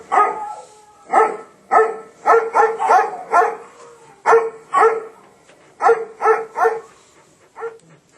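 Several dogs outdoors in winter snow bark in quick, loud bursts of two or three, repeating steadily and fairly close with brief gaps between volleys.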